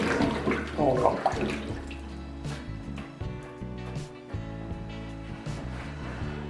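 Potatoes are swished and stirred by hand in a sink of water, giving a continuous splashing and sloshing with a loud burst at the start, while a person briefly speaks.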